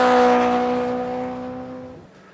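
Viper Scale Racing V-3 chassis slot cars whir along the track with a steady high-pitched electric motor whine that fades away over a couple of seconds.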